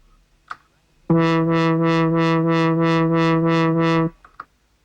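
A sustained synthesizer tone with its filter swept by an LFO, producing about nine even, rhythmic wah-like pulses over three seconds, steady and clear, with faint clicks before and after.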